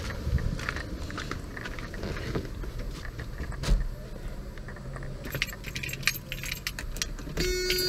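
Car keys jangle in the ignition, a close metallic rattling that continues with small clinks, then a few sharper clicks near the end, no voices.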